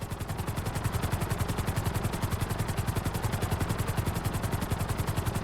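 A helicopter flies in the video game Grand Theft Auto 5, its rotor chopping in a fast, even rhythm that stays loud and steady throughout, with no voices.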